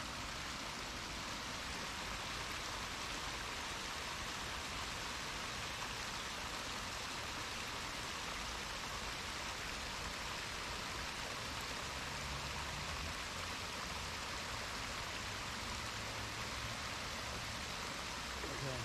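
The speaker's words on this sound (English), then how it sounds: "I'm going to get some of this water rushing for a minute." Rushing water of a stream gives a continuous, dense broadband hiss, steady and fairly loud throughout with no voices.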